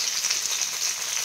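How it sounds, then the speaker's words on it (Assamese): Sliced medium onion frying in mustard oil in a kadai, a steady close sizzle with bright crackling hiss throughout, no voices. "মিডিয়াম সাইজৰ এটা পিয়াজ কাটি পেলাই তেলত দি দিছে"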